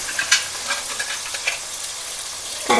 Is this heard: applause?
no